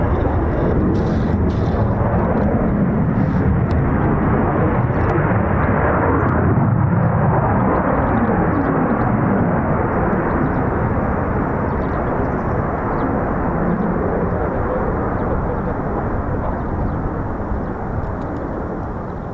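An F-35B stealth jet making a vertical landing, a loud, sustained roaring blast of jet noise with rumbling low end that holds steady and fades slightly toward the end.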